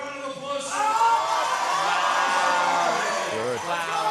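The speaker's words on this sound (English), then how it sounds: "How about a round of applause?" Crowd at a powerlifting national championship meet cheering and whooping for a lifter's heavy attempt on the platform, a sustained loud roar of voices with shouts that holds steady for several seconds.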